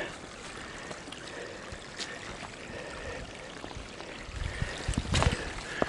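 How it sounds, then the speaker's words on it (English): Creek water rushes and gurgles steadily over rocks nearby on the Appalachian Trail near Standing Indian Mountain, with a few louder splashes toward the end. "More creek crossing."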